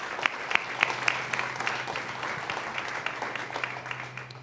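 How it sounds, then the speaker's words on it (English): An audience at a school board meeting gives students a sustained round of applause. The dense, even clapping has a low electrical hum beneath it. "So just another round of applause for the students"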